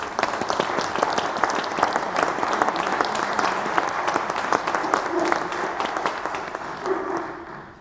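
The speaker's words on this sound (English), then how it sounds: "we get a round of applause to our judges" An audience at a bagpipe piping competition applauds the judges, producing a sustained, full round of clapping with sharp individual hand strikes that fades slightly at the very end.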